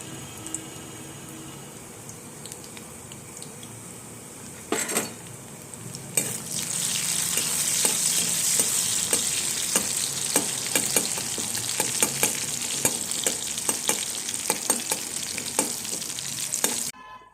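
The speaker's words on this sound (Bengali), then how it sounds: "এই যে রসুনগুলো একটু লাল হয়ে গেছে" Finely chopped garlic sizzles in oil in a wok. A quiet start gives way to a loud, continuous frying hiss marked by regular clicks and scrapes of a stirring spoon, with no talking.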